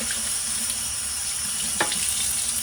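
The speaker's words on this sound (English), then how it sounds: "Rinse them with water." Tap water runs steadily over dishes in a kitchen sink, a continuous close hiss and splash with one small clink partway through and no talk.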